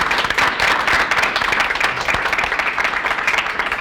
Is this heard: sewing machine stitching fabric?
no